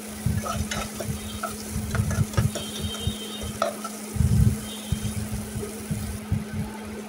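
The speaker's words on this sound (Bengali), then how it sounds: "তো মশলাটাকে কিছুক্ষণ কষিয়ে নেব আমি।" Ginger, garlic and cumin paste frying with onions in a pan sizzles steadily while a spoon stirs and scrapes in repeated close strokes; no voices.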